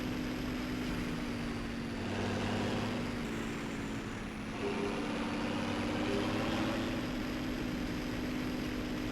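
A steady, loud farm vehicle engine roar in Farming Simulator 17 drones on without a break, deep and constant like heavy machinery running at full throttle, with no voices over it.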